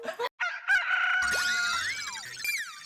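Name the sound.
chicken clucking and crowing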